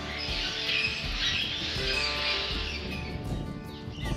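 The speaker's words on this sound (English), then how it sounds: "Lots of birds." Busy outdoor chatter of many birds in Caprock Canyon State Park, Texas, with squawks and chirps layered continuously over a steady background.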